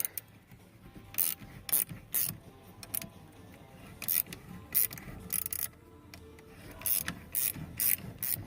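A ratchet backs a fastener off the steering column of a 1993 Chevy K2500, sounding as bursts of quick clicking strokes separated by short pauses, close and moderately loud, with no speech.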